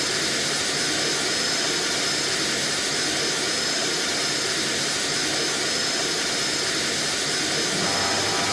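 Airliner jet engines roaring steadily during a climb in the Airport Master game, a loud, constant broadband whine and rush with no break.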